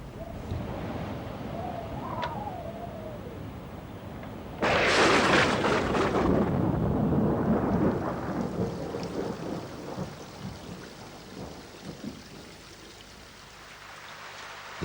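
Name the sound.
thunderstorm with rain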